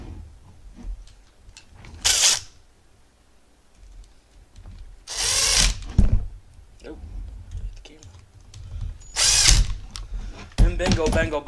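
Power drill driving servo screws into the chassis of an Imex RC 4x4 truggy, three short whirring bursts separated by quiet pauses, close and loud, with a brief voice near the end.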